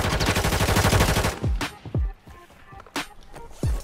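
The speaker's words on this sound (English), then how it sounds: "They sniping in this house." Gunfire in Call of Duty: Warzone, a rapid burst of shots followed by four or five separate sharp cracks spaced about half a second apart, near and loud, in the sniper-filled house.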